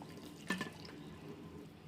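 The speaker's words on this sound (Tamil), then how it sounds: "நம்ம குழம்புக்கு தேவையான அளவு இதில் தண்ணி சேர்த்து" Water poured over pieces of tamarind for a sardine fish curry, a short splashing trickle near the start, then fading to quiet.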